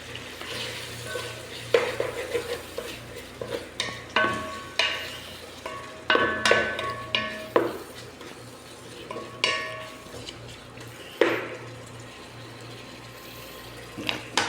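A spoon stirring vegetables with sardines in a cooking pot, giving repeated scraping and clinking strokes in an irregular rhythm over a low steady background hum, close and moderately loud.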